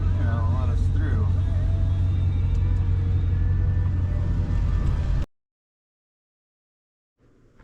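Road traffic rumbles in a steady, loud, low drone that sounds as if heard from inside a moving vehicle, with people talking over it, before it suddenly cuts to silence.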